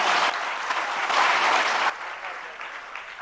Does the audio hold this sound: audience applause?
yes